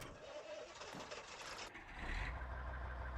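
Truck engine in Farming Simulator running steadily at moderate loudness, with a deeper low rumble swelling in during the second half as the engine revs up.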